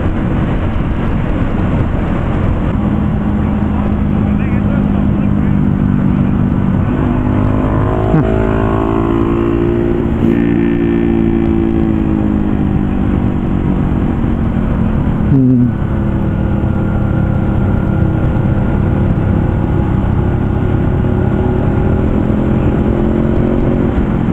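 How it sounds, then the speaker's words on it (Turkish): A motorcycle ridden for the first time along the Ağva road with a 10% grade, the engine droning steadily and loud throughout, its pitch rising and falling with wind rush over it. "Ben de motorla ilk defa gideceğim bu yoldan."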